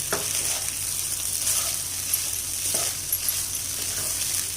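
Green masala egg rice made from leftover rice sizzles steadily in a pan while being stirred, with a constant frying hiss and a couple of faint scraping knocks from the utensil.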